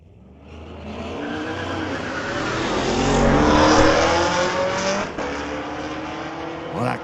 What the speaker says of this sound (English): Well, that Camaro sure sounds good.